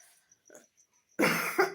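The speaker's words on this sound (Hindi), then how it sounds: "खांसी है।" A person with a sore throat and a seasonal illness coughs in one loud, harsh burst with a second short hack, after faint earlier throat sounds in a quiet room.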